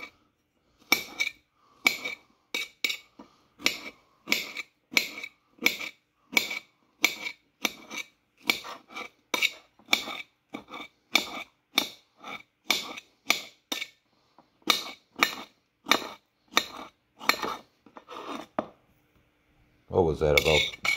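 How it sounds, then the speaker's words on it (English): A knife chops fresh strawberries into bite-sized pieces on a board, a long run of close, crisp taps at a steady rhythm with brief pauses, and a voice speaks near the end. "we're just gonna kinda chop them into small bite-sized pieces"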